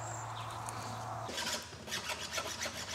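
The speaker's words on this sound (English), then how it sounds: "My dad is sharpening the chainsaw because we're about to cut some firewood to take on our camping trip." Sharpening an electric chainsaw's chain with a file outdoors, a steady low hum giving way to repeated gritty rasping strokes at an even pace, close and moderately loud.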